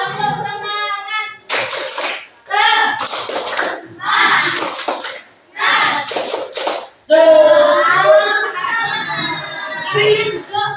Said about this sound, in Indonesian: Sebelum kalian mengekspor temannya ya sesuai dengan gambar kalian, tepuk semangat dulu ya.